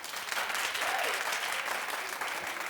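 A talk-show studio audience claps loudly and steadily for nearly three seconds, a dense wash of applause with no pauses.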